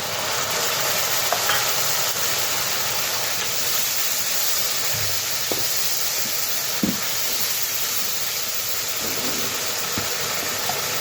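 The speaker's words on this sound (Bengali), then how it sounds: "একটু ভাজা ভাজা হয়ে গেলে মশলাগুলো ছেড়ে দেবো এক এক করে" Chickpeas and potatoes frying in a pan with spice paste, for a Bengali chickpea and chhana bora dish, give a steady sizzle and hiss throughout, broken by a few soft scrapes and knocks as the spatula stirs.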